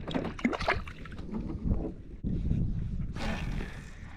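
Wind gusting and buffeting around a kayak drifting along a bank on fresh or salt water, a steady rushing broadband noise with a stronger hissing burst near the end and faint water movement underneath.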